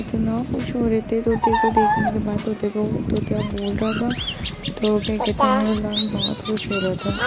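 A pet parrot chirps and squawks in short bursts near the microphone, its calls mixed in with excited talk from people and a child throughout.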